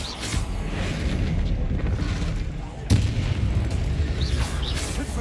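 A Bombarda spell explosion in a video game, a single sharp burst landing midway over a steady rumbling background with other crackling spell effects around it.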